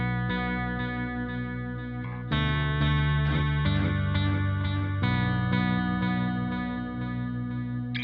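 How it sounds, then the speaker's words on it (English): Clean electric guitar through a Roland Jazz amp preset with chorus-flanger and DD3 delay, playing a shimmering, echoing riff of sustained chords and single notes, with drums underneath. "it's going into this chorus flanger and this sort of DD3 delay"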